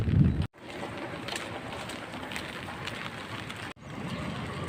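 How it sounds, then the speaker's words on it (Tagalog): Steady, loud wind buffets the microphone with a broad roaring rush near a night market in Calapan, briefly cutting out twice, no voices. "malakas ang hangin"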